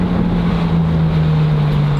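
Porsche 997 Carrera 4S flat-six fitted with a Fabspeed full exhaust, idling with a steady low droning tone and a constant rumble, close and loud, with no talk.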